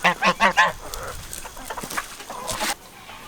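A farm hen on a homestead gives an unusual calling sound: three loud, close honking calls in quick succession, then fainter, scattered squawks and rustling.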